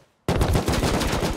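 Waterpipe shotgun firing slugs in the survival game Rust: after a brief silence, a loud, abrupt blast starts and carries into a dense, rough roar of shots up close.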